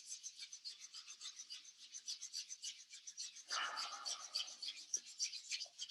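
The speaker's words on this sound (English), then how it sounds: "So we can bring our hands together when you're ready and rubbing them together" Palms rubbing together during a qigong self-massage, a soft continuous rhythmic swishing friction, close and quiet, growing a bit fuller partway through.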